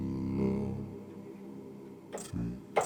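A voice sample, slowed down, formant-shifted and fattened with a CLA-2A compressor, comes out as a low, droning, smeared vocal tone. It is quiet and sustained, followed by a couple of short bright bursts near the end.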